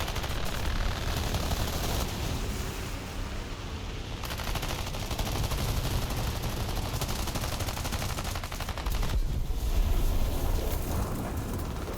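Rapid machine-gun fire from a bomber's tail gunner during an air battle in War Thunder, American aircraft involved: continuous dense rattling bursts with engine roar underneath, loud and unbroken for the whole stretch.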